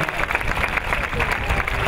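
An audience claps at an outdoor harvest music festival concert, a brief, dense burst of crackling applause filling the whole moment.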